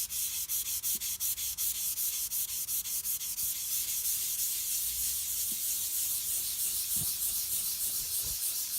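A paper towel with WD-40 rubs back and forth over crayon marks on a wall, first as rapid rhythmic scrubbing strokes, then as a steadier continuous swishing friction, close and fairly loud without speech.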